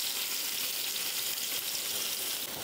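Small pieces of chopped garlic fry in a pan with whole spices, giving a loud, steady, close sizzle with no pauses.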